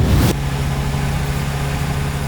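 Toyota Supra engine under full throttle, a loud steady drone with a strong low hum that holds after a brief burst at the start, no talking over it.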